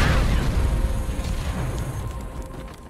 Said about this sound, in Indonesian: Namun tiba-tiba satu granat meledak